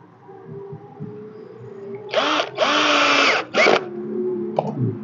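A power drill drives a screw flush into a surface, buzzing in two or three short close bursts against a quiet background.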